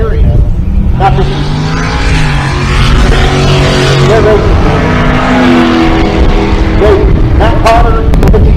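A Pontiac GTO and another drag car launch at a Pueblo, Colorado race, their engines roaring loudly with rising, shifting revs over the whole stretch, while an announcer talks over the noise.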